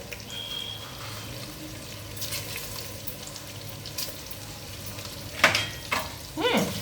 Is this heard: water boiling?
yes